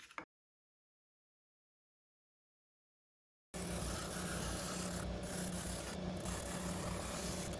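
A wooden zero-clearance table saw insert being sanded on a power sander, a steady loud rasping rub with machine hum that starts abruptly after a long silent gap, with no talk.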